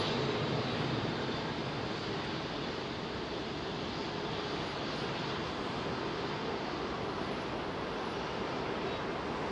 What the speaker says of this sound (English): Rolls-Royce Trent 900s, double-decker A380 Airbus